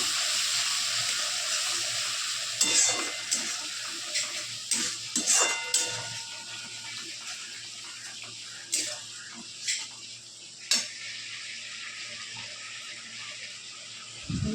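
Ginger garlic paste and mutton mince fry in a pan with a splash of water, giving a steady bright sizzle broken by scattered scrapes and clinks of stirring.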